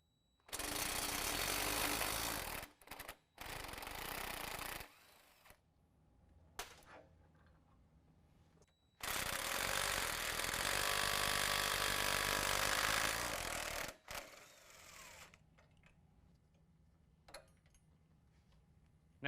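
Impact power tool removing the lower strut bolts on a 2019 Chevy Silverado 1500, two long loud rattling hammering bursts separated by short ratchety clicks, metallic clinks and quiet gaps, close up.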